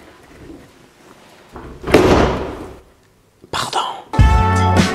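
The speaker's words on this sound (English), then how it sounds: "There's no other way to close this door but by slamming it." Door in a Paris rental apartment slammed shut with a single loud bang, after faint shuffling and before a few clattering knocks.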